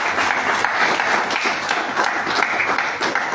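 A church congregation applauding and cheering for the Lord, loud dense clapping filling the room without pause, with voices calling out underneath.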